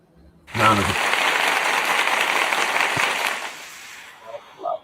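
A crowd bursts into applause for about three seconds, loud and dense, then thins and fades, leaving a few faint scattered sounds at the end.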